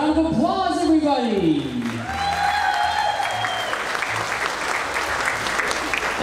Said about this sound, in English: give the Grand Rim a round of applause, everybody